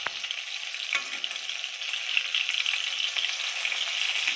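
Lote fish fritters frying in hot oil in a wok, a continuous bright crackling sizzle heard up close, with a couple of faint stirring clicks and no voices.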